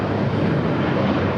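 A brand new Airbus A220-300 jet airliner taxis at LAX with a steady, loud, broadband engine roar that holds even throughout, without voices.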